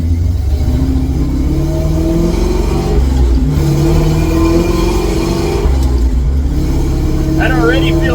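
A 1955 GMC truck's engine rumbles and revs as the truck pulls out of a driveway, loud and close, with a voice talking over it.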